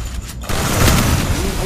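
A gunshot in a shooting video game, heard as an abrupt loud burst after a brief lull, followed by a dense, rumbling noisy tail that stays strong to the end.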